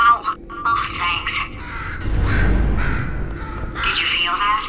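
A crow-like bird caws several times in Portal 2, sharp raspy calls scattered through the clip and overlapped by a talking voice.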